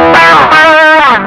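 Electric guitar played through a Klon KTR overdrive pedal with the gain turned up, a short, loud, saturated chord or bend ringing with rich distorted harmonics, heard alone.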